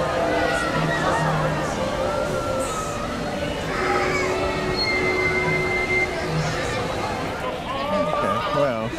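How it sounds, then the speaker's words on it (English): A Disneyland train rumbles past with squealing wheels and metallic screeches, while people chatter in the background. "Yes, train."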